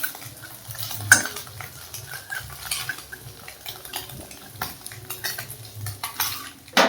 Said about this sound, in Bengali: ডিমটাকে একটু এইভাবে ঘেঁটে দেব, যাতে ঝুরঝুরে হয়ে যায়